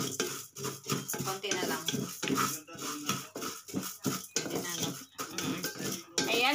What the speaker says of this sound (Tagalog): Ibusa po muna ang bigas hanggang sa maging brown.